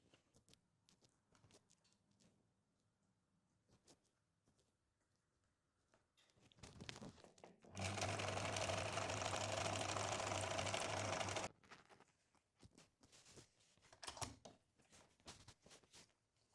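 A sewing machine stitches a maxi scrunchie in one steady run of rapid needle chatter lasting a few seconds, framed by quiet fabric handling and soft clicks before and after.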